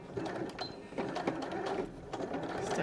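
A sewing machine stitches the elastic facing on a dress, giving a close, busy rattle of short needle bursts and fabric handling throughout.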